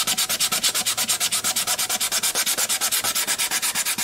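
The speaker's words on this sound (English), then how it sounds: "it looks like I've got quite a bit more sanding to do, even after sanding it for a very long time with the 320" A quilted maple mandolin body is hand-sanded with 320 grit sandpaper in fast, even strokes, a close, bright scratching rhythm repeating about eight times a second with no voices.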